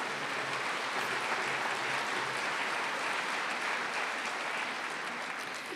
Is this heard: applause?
yes